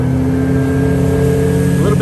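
A Honda BF90D outboard with a 19-pitch three-bladed aluminum prop drives a boat at roughly 4,900 RPM, a steady, loud engine drone with a tonal whine that holds level throughout, with wind and water noise underneath and a voice talking over it.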